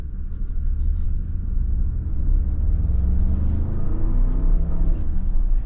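A 2023 Bentley Bentayga EWB Azure accelerating in sport mode, a steady deep engine rumble and road roar building continuously from inside the cabin, loud and unbroken with no talk.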